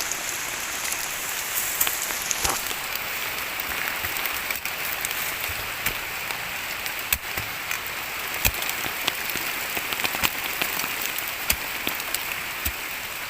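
Rain falls in a steady, close patter with sharp scattered drops ticking on nearby surfaces, running continuously throughout.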